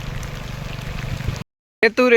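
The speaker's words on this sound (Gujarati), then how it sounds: "ખાલી આ ઉપલા 4 પાટલામાંથી પાણી કેટલું આવે તમે જોવો ને અહીંથી કેટલું આ પાણી જાય છે" Rainwater rushes off flooded village farm fields during heavy rain, a continuous close stream that cuts off abruptly before a voice starts talking.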